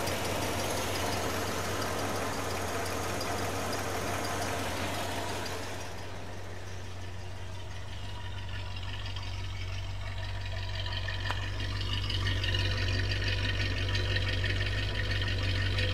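A 1967 Cadillac Eldorado with a quiet exhaust idles smoothly, a low steady hum with a faint broadband hiss at first that drops away, then the idle grows slightly fuller near the end.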